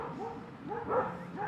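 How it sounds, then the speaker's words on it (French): Dogs fighting wild boars, heard as a rapid run of close, moderately loud barks and yips in quick repeated bursts, with faint voices in the background. "il y a un combat de chiens et de sangliers"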